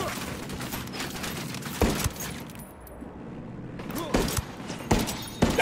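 Gunfire in a Ghost Recon firefight: sharp bursts of shots crack out at intervals over a busy background of clatter and movement, with a brief lull in the middle.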